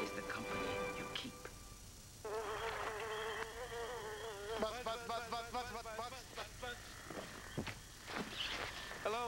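Mosquito buzzing in a TV commercial, a thin whining buzz weaving over a background music bed, with occasional voices between bursts.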